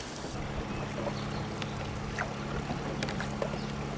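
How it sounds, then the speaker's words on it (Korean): Quiet ambience of a rowboat gliding on the river through the karst scenery of Trang An, Ninh Binh, Vietnam, with soft water lapping, faint wind and occasional small splashes from the oars. "배를 타고 있고 이게 3시간 동안 돌을 저어야 될 것 같아요"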